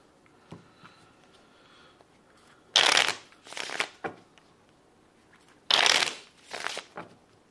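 A deck of playing cards shuffled up close, two bursts of crisp riffling, each followed by a shorter ruffle, with faint handling sounds between.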